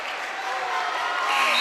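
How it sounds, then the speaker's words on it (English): Crowd at a Pickett County at Russell County basketball game in Kentucky cheering and clapping in a steady, dense roar that swells slightly louder toward the end. "Crowd getting pretty fired up here"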